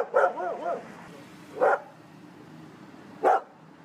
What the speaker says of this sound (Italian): perché lui abbaia alle persone